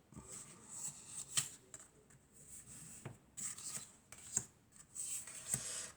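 Cards shuffled for a tarot-style general and love guidance reading, heard as soft papery riffles and rubs in repeated bursts, close and fairly quiet with no voice.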